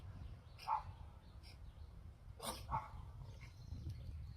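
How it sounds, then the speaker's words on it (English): A neighbor's dog barks a few times at a distance, the short yelps faint over a low outdoor rumble with no one speaking. "This is my neighbor's doggie that loves to play fetch with me. As they bark, they probably want a toy."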